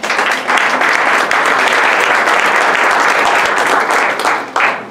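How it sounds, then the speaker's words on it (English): Loud, sustained applause from a kick-off event audience greets the panelists, with many hands clapping in a thick, continuous roar for about five seconds before it briefly dips and swells again. "applause for the panelists"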